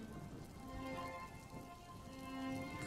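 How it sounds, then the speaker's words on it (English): Rain falls gently and continuously on stone, a soft, faint patter with quiet tonal hums in the background, and no one speaking. "The rain falls slowly over a stone"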